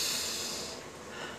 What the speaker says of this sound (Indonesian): ambil nafas dengan cara mendengkus